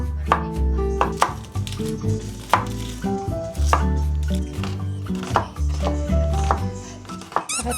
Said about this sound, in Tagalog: Slice na muna tayo ng onion and garlic.